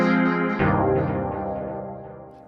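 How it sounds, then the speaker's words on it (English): A minor 90s chord preset on the Rob Papen Predator 3 synth: a sustained chord whose bright, shifting attack re-triggers once and then slowly fades, heard alone with no talking. "This is a minor 90s chord."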